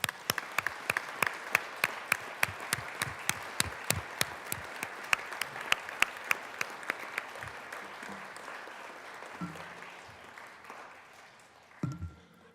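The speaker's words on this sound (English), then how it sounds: "want to give you a round of applause" Applause in the Colorado Senate chamber honoring a guest, with steady, crisp claps that form a moderate, fairly distant round, gradually thinning out until a few final claps and room noise remain.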